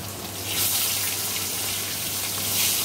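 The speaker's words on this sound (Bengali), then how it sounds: "চিকেন খাবো, তাই চিকেনগুলোই আগে ভাজবো" Chicken pieces frying plain in a pan of hot oil with no spices, a steady broadband hiss and sizzle running continuously at close range with no voices.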